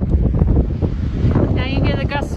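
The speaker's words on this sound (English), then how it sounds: "Now you get a gust of wind we've been dealing with." Wind gusts across a mountain trail on the Appalachian Trail, a loud, steady buffeting rush that hits the microphone throughout, with a brief whistling tone toward the end.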